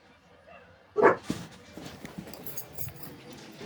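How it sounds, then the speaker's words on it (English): A dog outdoors gives one sharp bark followed by a couple of fainter yips amid quiet background noise. "I heard a dog outside"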